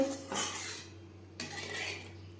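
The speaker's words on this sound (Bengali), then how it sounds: "গ্রেভি বেশ ভালো করে মিক্সড করে দেব" A utensil stirs masala gravy for katla fish curry in a pan, giving two bursts of scraping and clinking against the metal, close and moderately loud, with no talk.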